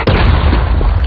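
A single heavy artillery blast booms up close in a war battle, a loud broadband burst that rolls off into a low rumble.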